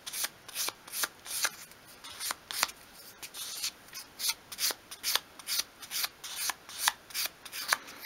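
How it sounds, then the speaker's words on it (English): Fine-grade sandpaper sweeps over a small wooden piece for a 1/12th scale drawer unit, making about sixteen soft, rhythmic rasping strokes, close up and quiet, with no talk. "hold the paper at a 45 degree angle and just sweep it along like that"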